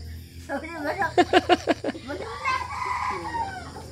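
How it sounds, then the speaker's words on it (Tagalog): Chickens cluck in a quick burst of repeated calls, then a rooster crows, with a voice speaking over the farmyard sounds. "yung mga manok ko"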